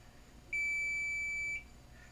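A multimeter continuity beep sounds while probing the PMIC solder balls on an iPhone 5S logic board: one steady, clear tone lasting about a second over a quiet background.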